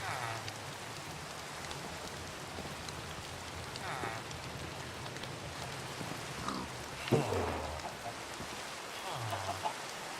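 Steady rain pours in the game Minecraft during a storm over a large farm, a constant hiss of drops with a faint voice murmuring now and then underneath.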